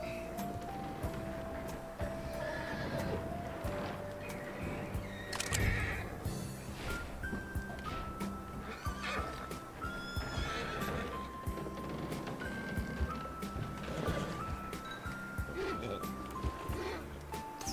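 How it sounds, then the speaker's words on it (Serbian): A horse in the video game Red Dead Redemption 2 neighs and whinnies repeatedly while its hooves clip-clop, mixed with game sounds and some talk over the top. "Focus on the horse."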